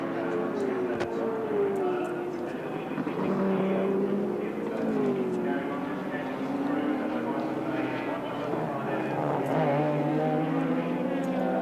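Touring race cars at Sandown in the 1983 Castrol 400, engines droning and shifting pitch as they pass at a distance, heard under a commentator's voice throughout.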